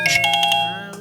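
Mobile phone ringtone sounding loud and close as a short run of bright, repeated electronic tone pulses, with no voices.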